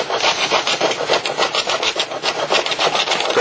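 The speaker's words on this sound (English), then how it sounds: "You'll want to work the tool steel scraper anywhere from 30 to 45 degrees" A tool steel scraper worked steadily across a surface, producing a loud, close, rhythmic rasping scrape in quick repeated strokes with no talking.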